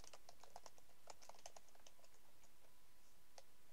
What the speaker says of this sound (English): I hear clicking.